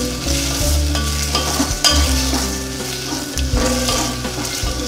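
Vegetables sautéing in cooking oil for arachuvitta tiffin sambar, a steady close sizzle with broad low rumble and scraping stirs coming in bursts, loud and alone with no talk.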